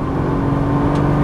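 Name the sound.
Nissan GT-R engine accelerating after upshift on track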